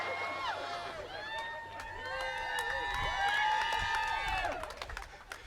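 A crowd cheers and applauds at a live show, with whoops and high shouts over steady clapping that swells in the middle and then tapers off.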